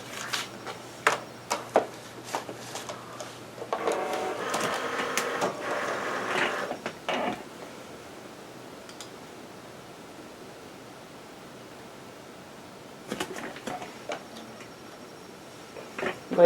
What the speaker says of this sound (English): I'm going to cut the same doily out of both machines